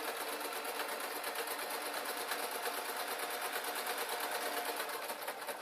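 A sewing machine runs a straight stitch along the shoulder seam of a Downton Abbey style dress, a fast, even mechanical chatter that holds steady and close for the whole stretch, with no voices.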